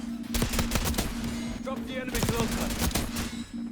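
AK rifle gunfire in Call of Duty Black Ops 6 Domination, with rapid automatic bursts and sharp close shots over a steady game hum.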